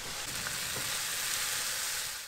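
Liver fries in a pan with a steady, dense sizzle, close and even throughout, with no talking.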